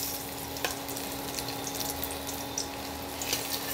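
Stuffed bitter gourds fry in hot oil, giving a faint, steady sizzle with a few soft crackles, quiet and continuous throughout.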